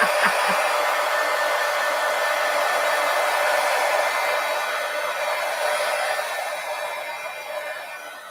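A handheld hair dryer blows steadily on an art journal page, a loud close continuous whooshing hiss that fades slightly toward the end after a few brief clicks at the start.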